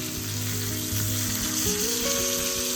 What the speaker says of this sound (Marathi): पापलेटला पलटी करून घेऊया मस्त.